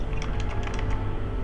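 Rapid computer keyboard typing during play of Dead Space 3, a quick cluster of clacking keystrokes over a loud background drone from the game.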